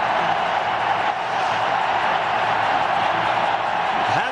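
A huge cricket stadium crowd in Nagpur roars continuously after consecutive sixes, a dense, sustained wash of cheering with no breaks.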